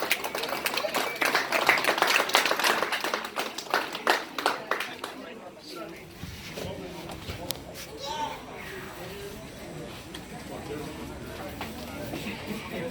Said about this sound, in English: Everybody give Mike a big hand clap.